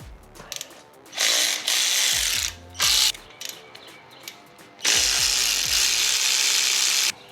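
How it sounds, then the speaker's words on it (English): Ratchet undoing the exhaust nuts on a Harley-Davidson Road Glide, loud bursts of rapid clicking in three runs separated by short pauses and small metallic taps. "Now what I'm gonna do is go ahead and undo these nuts in here."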